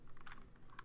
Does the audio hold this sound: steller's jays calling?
no